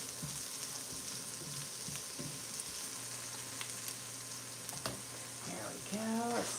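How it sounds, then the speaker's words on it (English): Garlic sautéing in a pan for a Greek lamb dish, a steady sizzle with scattered stirring clinks, and a brief voice near the end. "let's toss that garlic in there, let it saute up just a little bit"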